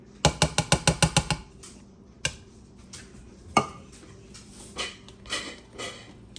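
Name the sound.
whisking tamale pie batter with butter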